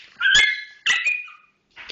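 A dog whimpers and whines in three high, squeaky bursts, close by, with short pauses between them.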